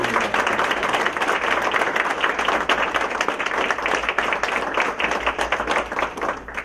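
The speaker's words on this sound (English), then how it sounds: "Please join me in applauding, congratulating our leaders." An audience at a National Honor Society induction ceremony applauds, a dense, continuous wash of many hands clapping close and loud, holding steady throughout.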